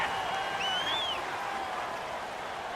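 Steady stadium crowd roar fills a Madden NFL 19 game, a dense, even wash of cheering with a faint whistle-like tone rising briefly above it, no one speaking.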